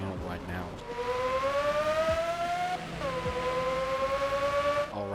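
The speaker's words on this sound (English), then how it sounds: "this car does sound pretty cool" A high-revving car engine in the racing video game Ghost Driver or Midnight Chasers whines with rising pitch, drops briefly as it shifts, then climbs again, loud and steady.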